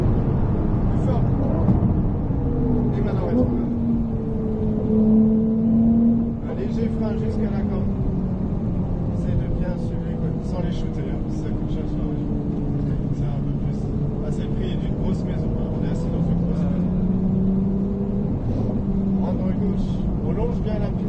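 A racing car on a track drones steadily throughout, its engine pitch rising and falling as it accelerates and shifts down, a continuous close motor note with no talk over it.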